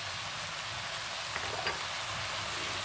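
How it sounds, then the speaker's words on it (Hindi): Chicken noodles frying in a pan on medium flame produce a continuous, even hiss of sizzling oil, steady and close with no talk. "अब मैं सारी चीज़ें इसमें डाल के इसको मैं फ्राई फ्लेम कर दूँगी इनको 1 से 2 मिनट"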